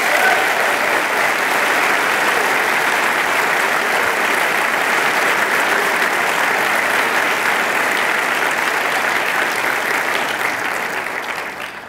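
A graduation audience in a room breaks into a long, loud, dense round of applause that holds steady for about ten seconds before thinning out at the end.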